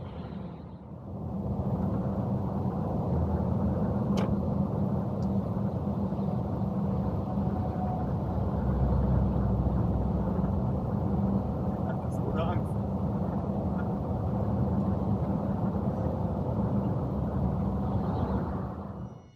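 An Iveco S-eWay electric truck hauls a massive Dynapac asphalt paver on its trailer, a steady broadband road and drivetrain rumble holding constant while a person talks over it.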